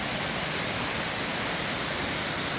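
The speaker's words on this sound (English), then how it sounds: "Running water." Steady, dense rushing of a waterfall outside Matlock, Derbyshire, a loud unbroken hiss of falling and running water close by.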